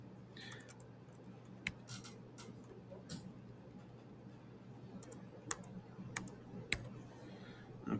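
Close, quiet typing on a computer keyboard: scattered, irregular key clicks over a steady low hum, with no talking.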